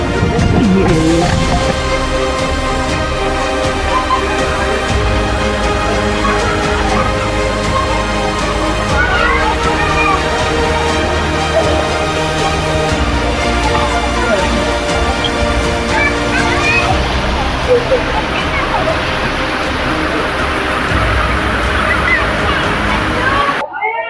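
The first waterfall at Rock Garden Chandigarh pours in a steady, loud rush of splashing water, heard close by throughout, with people talking now and then over it.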